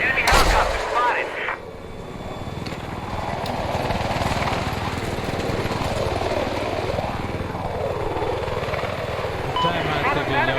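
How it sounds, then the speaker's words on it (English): An enemy helicopter drones and whirs beneath repeated gunfire bursts in the PUBG battle game, with loud continuous rotor noise and scattered shots, while game voice callouts play over it. "Enemy helicopter spotted."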